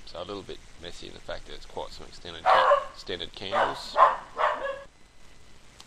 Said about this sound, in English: Sorry about that, excuse the dog.